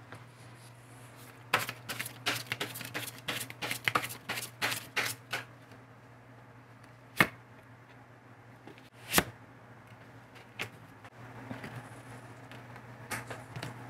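Tarot cards riffled and flicked in quick dry bursts close by, a dense run of crisp snaps followed by a few isolated slaps as single cards are laid down, with no voices.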